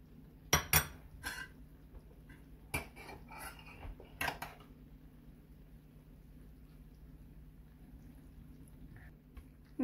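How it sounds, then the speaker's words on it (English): Rice layered into a pot of chicken biryani: a few loud clinks and scrapes of a spoon against the metal pot in the first seconds, then a quiet low hum. "Now I'll add my rice again."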